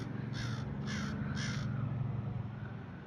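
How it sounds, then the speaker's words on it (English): A crow caws three times in quick succession, loud and fairly close, over a low, steady outdoor hum on an afternoon nature walk. "Hi, Mr. Crow. How's it going this afternoon?"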